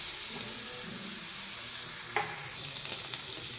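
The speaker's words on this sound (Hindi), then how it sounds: "अब इसी कढ़ाई में थोड़ा सा ऑयल डालकर हम आलू को भी फ्राई कर लेंगे।" Potatoes frying in a little oil in a kadhai, a steady close hiss and sizzle with one brief clack of a utensil partway through, quiet and without talk.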